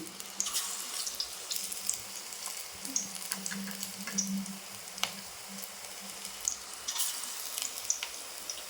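Bajji fry in hot oil with a steady, faint crackle and sizzle, broken by scattered sharp pops and small clinks close by, with no voices.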